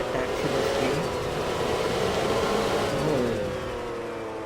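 In a taxi driving video game, a car engine hums and revs steadily at mid pitch, a continuous whirring drone with slight rises, alone without talk.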